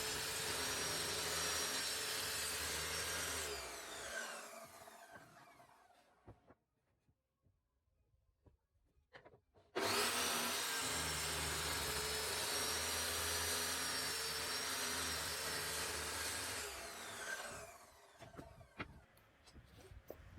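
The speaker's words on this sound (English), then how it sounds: "So here I'm just lining my rail saw up with the cut mark that I want to make, and then I'm just going to cut down through." Rail saw cutting through a pallet board on a worktop: a loud, steady whining cut that stops and winds down, a short quiet gap, then a second long cut starts abruptly and fades out.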